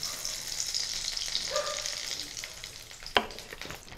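Mustard oil heats in a wok for fried eggplant mash, giving off a steady bright sizzle with a few soft clinks and one sharp knock near the end, close and alone.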